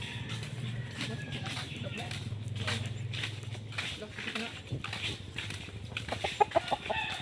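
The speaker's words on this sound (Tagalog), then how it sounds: "Bisayang manok" Visayan chickens cluck and peep close by outdoors, with short repeated calls that grow sharper near the end, while people talk over them.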